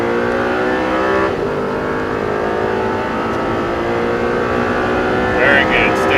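An Audi R8 sports car at full throttle on a track, its engine droning loud and close with rising harmonic tones and rough exhaust texture throughout, heard from inside the cabin.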